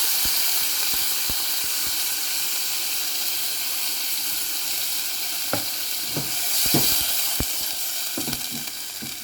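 A stir fry mix for Puerto Rican bean cooking sizzles loudly and steadily in a pan, with a dense frying hiss throughout and a few sharp clicks and scrapes of stirring near the end.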